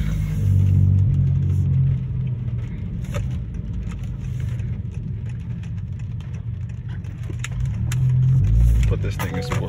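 A 2019 Honda Accord with the 1.5 engine and an AEM air intake rumbles steadily inside the cabin, with low engine drone swelling near the start and end as it revs, while a person talks over it.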